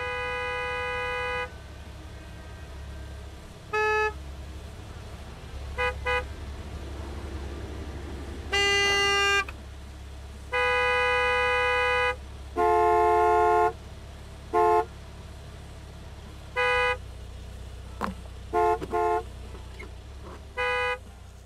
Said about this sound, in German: dann wird die wieder hinterher hupen, weil die jetzt hinter dem Spritlieferanten steht